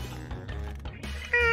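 A cartoonish cat meow voiced by a player's character in the party video game Quiplash 2, heard briefly over game music and background sound, with a brighter tonal burst at the end.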